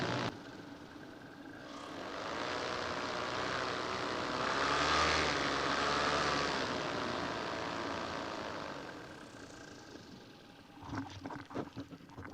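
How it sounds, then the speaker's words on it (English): A paramotor makes a flyby before landing on a mountain, its propeller engine drone swelling louder as it passes near, then fading away, followed by a few brief knocks and rustles close by. "I'm gonna do a flyby first."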